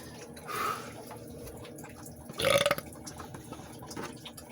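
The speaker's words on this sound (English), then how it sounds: "I want to record my burps, because I'm pretty good at making the." A person burps once, loud and close, in a short throaty gurgle alone against a faint background, with a softer throat sound just before it.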